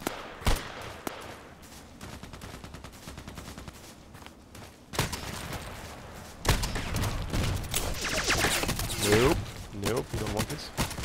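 Gunfire rattles in the Contract Wars shooter on the Old Sawmill map: a few sharp isolated shots, then heavier rapid bursts and overlapping volleys that grow louder and denser in the second half.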